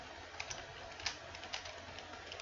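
Computer keyboard typing during a coding session, faint scattered key clicks with a few sharper taps, quiet and close, with no talking.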